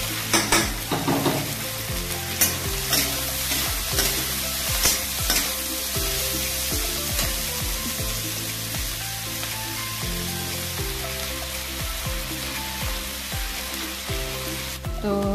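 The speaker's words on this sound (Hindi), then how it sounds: "तो बस ऐसे सिंपल सा इसको फ्राई करूँगी, प्याज और थोड़ा बहुत मसाला डाल के" Fresh peas with onion and spices frying in a pan, a loud continuous sizzle with frequent scraping stirs and clinks of the spoon against the metal, close up and unbroken for the whole stretch.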